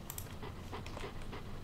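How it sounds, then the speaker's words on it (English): A Jack Russell Terrier panting in quick, rapid breaths close by, short and continuous with no other sounds. "Okay, a Jack Russell Terrier."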